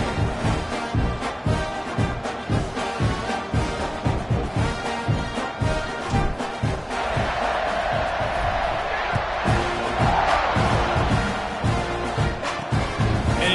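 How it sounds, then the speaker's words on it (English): Football stadium crowd buzzing after a score, a steady roar of many voices with rising swells and scattered shouts, continuous and loud throughout. "this crowd is buzzing after that last score"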